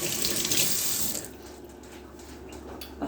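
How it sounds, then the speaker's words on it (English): Tap water running into a kitchen sink during hand washing, loud and close at first, then weaker splashing as the flow settles, no talking. "Now I gotta wash my hands."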